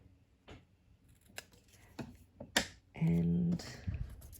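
Scissors angle-cutting paper scraps for layered embellishments, a few crisp snips spread across the moment, with a short steady hum in the middle and soft background talk.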